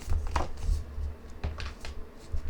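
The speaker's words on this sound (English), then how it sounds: "I'm just going to be shuffling and the card is going to jump out when it's ready." A deck of tarot cards being shuffled by hand during a reading, close and soft, with several brisk riffling bursts and brief pauses between them.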